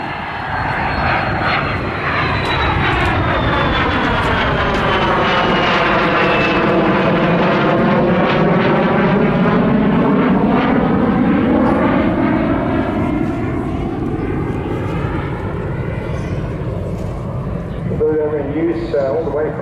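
An aircraft flies an airshow display at Southport in 2024, its engine a loud continuous drone that rises and falls in pitch as it passes. An announcer talks throughout.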